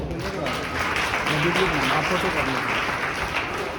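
Steady applause from a large audience, dense and sustained clapping throughout with a murmur of voices mixed in.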